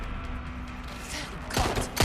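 Gunfire from the video game Watch Dogs: Legion, with a couple of loud, sharp shot bursts near the end over steady background game noise and a low hum.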